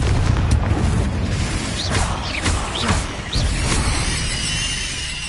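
A Confringo fire spell exploding in the Hogwarts Legacy video game, a loud booming blast with crackling, shattering debris and sharp magical zaps scattered over a rumbling battle backdrop.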